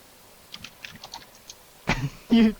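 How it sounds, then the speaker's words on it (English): Computer keyboard keys click in a quick, light run, fairly close. A sudden louder burst of noise near the end cuts across the typing. "Jack keeps typing."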